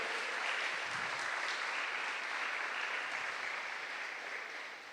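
A church congregation at a worship gathering gives a strong, sustained round of applause, a thick wash of clapping that holds steady and then begins to taper off.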